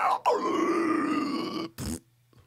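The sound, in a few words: person imitating a zombie voice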